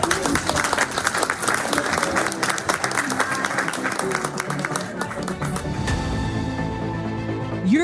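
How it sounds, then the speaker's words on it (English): An audience at a live business event party gives a dense, sustained round of applause that stays loud for several seconds and then tapers off as a faint tone and background sound take over. "Can we get a round of applause for the"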